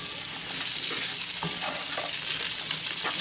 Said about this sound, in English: We might give them another just a tiny shot of olive oil. Stir them around a little bit.